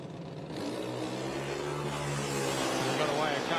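Top fuel drag race launch at Mildura, a loud sustained engine roar with harmonic drone building steadily over a few seconds, with a commentator talking over it.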